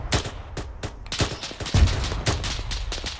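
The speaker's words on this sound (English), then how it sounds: "They're hitting us with GL fire as well." Rapid gunfire and grenade launcher blasts in a military video game firefight, a dense string of sharp, loud shots with heavier booming hits mixed in and no spoken voices.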